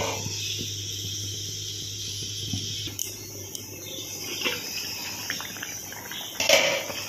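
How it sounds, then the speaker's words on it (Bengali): Fish curry gravy for a Bengali mourala fish chorchori with coriander leaves bubbling and simmering in a pot, a steady soft bubbling hiss with a low hum, occasional faint clinks near the end, no talking. "এবার একটু ঝোলটা ফুটে উঠুক।"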